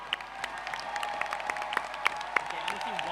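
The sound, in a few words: applause for the two finalists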